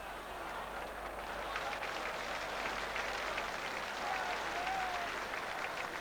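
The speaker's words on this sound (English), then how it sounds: "Crowd appreciating the football, though, and the commitment from all 22 players out there this evening." A football crowd at a Swindon Town versus Norwich City match applauds steadily as a broad wash of clapping and murmur that stays at an even, distant level from start to finish.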